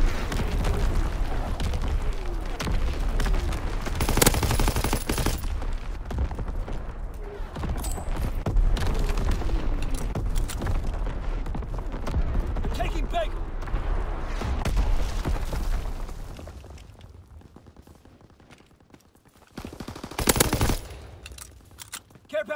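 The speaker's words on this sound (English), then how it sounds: "Incoming enemy artillery." Enemy artillery and gunfire in a video game battle, continuous rattling machine-gun fire and distant booms over a dense combat mix, easing off briefly before another loud burst near the end.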